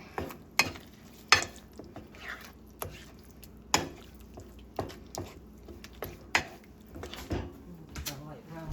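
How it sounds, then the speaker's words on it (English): A spoon stirs sloppy joe mixture with light brown sugar in a pan. Repeated wet, squishy scrapes and taps land every half second or so over a low sizzle, close up. "Let me stir this up."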